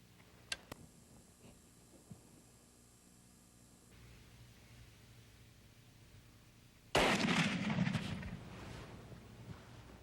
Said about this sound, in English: let's shoot that gun